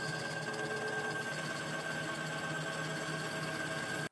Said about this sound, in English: I'll take it over to the bandsaw to cut out the base